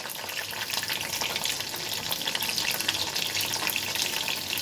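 Chicken wontons deep-frying in hot oil give a continuous, bright, crackling sizzle, close and even throughout, with no voices.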